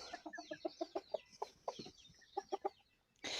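A rooster and a hen inside a rabbit cage on a village farm, clucking in quick short bursts close by and fairly quiet, with a brief rustle at the end.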